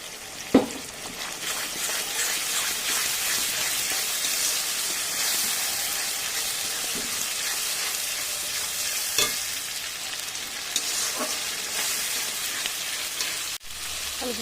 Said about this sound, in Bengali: পেঁয়াজটা ভালো করে ভাজা হয়ে গেছে, দিয়ে দিচ্ছি এবার এর মধ্যে মশলা, আদা, জিরে, রসুন আর শুকনো লঙ্কা